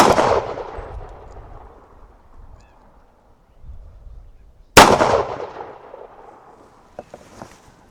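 Two sharp, loud pistol shots from a Kimber CDP firing .45 ACP ammunition, one at the start and one near the five-second mark, each trailing into a long decaying echo across an outdoor range.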